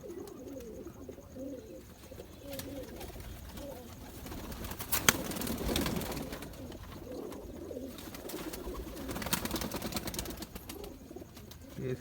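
Zeera silver pigeons, a matched pair in a loft, coo in soft low rolling phrases that repeat through the stretch, faint and somewhat distant amid light rustling and background noise.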